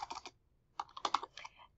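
Someone types a web address on a computer keyboard as part of a search operator. Two quick, close bursts of crisp keystrokes are separated by a short pause.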